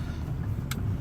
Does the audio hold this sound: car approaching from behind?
yes